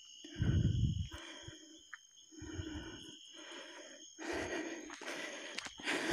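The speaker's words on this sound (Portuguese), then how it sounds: "E um fungado." An unidentified animal outdoors near houses at night gives a series of breathy snorts and huffs, some loud and close, others fainter, spaced unevenly with quiet gaps between them and no talking.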